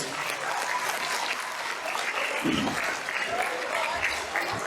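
A large audience at a school Ugadi celebration and talent recognition event gives steady, dense applause that fills the whole stretch at an even level, with faint voices mixed into the crowd noise.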